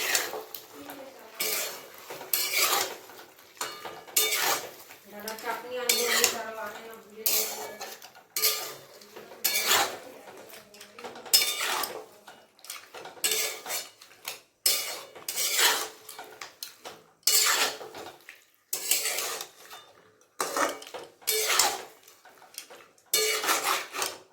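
Chicken curry with yogurt being stirred in a pan, a spoon scraping and clinking against metal in repeated close, uneven strokes throughout, with no talking.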